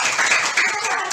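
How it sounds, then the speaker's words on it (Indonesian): Classroom of students clapping their hands together, a short burst of close, busy applause lasting about a second. "Ya, tepuk tangan."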